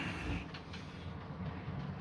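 A Hatton's Class 66 model locomotive hauls MXA bogie box wagons around a layout, giving a faint, steady low rumble of wheels on track with no talk.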